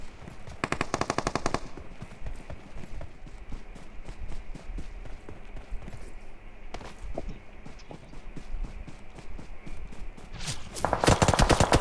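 Rapid machine-gun bursts in PUBG Mobile, loud automatic fire at the start and end with quieter footsteps and scattered shots between.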